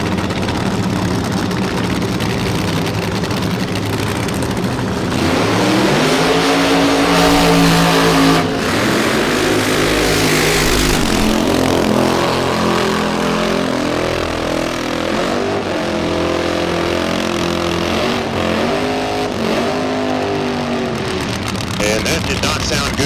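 A nostalgia drag racing car's engine at full throttle with the throttle stuck wide open, a loud continuous roar with surging harmonics, under a commentator's talk and a crowd.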